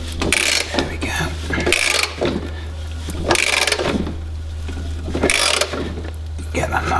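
A wrench tightens the blade bolt on a lawn mower, with repeated bursts of ratcheting clicks in an uneven rhythm over a low steady hum, close by.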